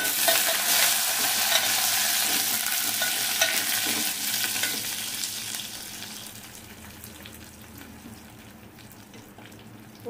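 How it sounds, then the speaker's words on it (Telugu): Curry leaves fry in hot tempering oil for pappu charu, a steady loud sizzle with stirring scrapes that gradually softens and fades over about ten seconds, with no voices. "ఫ్రై చేసుకోవాలి బాగా. కరివేపాకు వేసుకోవాలి."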